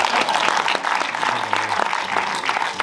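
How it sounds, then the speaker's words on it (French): A crowd at a cinema festival opening in Marseille breaks into brief, lively applause during a comedian's routine, with dense clapping and a faint voice underneath. "Tout le monde m'applaudit"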